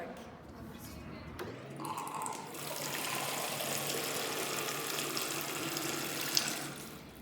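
Water runs steadily out of a leak in a model hydraulic system, a continuous splashing hiss with a faint pump hum beneath, fairly close and sustained throughout.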